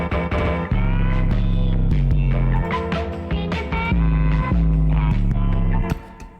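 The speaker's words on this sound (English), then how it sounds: "I sidechained the 808 to the sample, so it sounds like this." A heavy, booming 808 bass pulses under a looped melodic sample, the whole mix ducking rhythmically each time the bass hits, loud and dense throughout.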